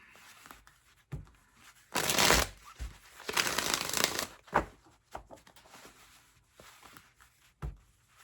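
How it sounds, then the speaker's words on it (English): Tarot cards are shuffled close up in bursts, two long riffling passes followed by a few short taps and card snaps, set against quiet room tone. "One more shuffle for Leos."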